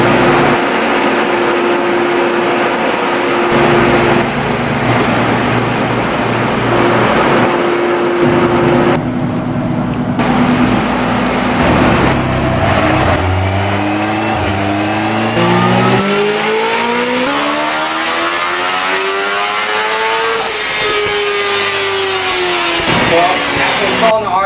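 Kawasaki Ninja H2 motorcycle with its stock exhaust, engine revving loudly through repeated climbs and drops in pitch, close and sustained, with occasional voices under the roar.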